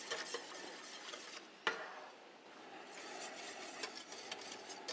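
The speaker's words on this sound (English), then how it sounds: "now you need to make sure that you whisk in all of the flour and butter" A whisk stirring flour and butter into milk in a pan, a steady soft scraping and swishing with a few light metallic taps against the pan, close and fairly quiet.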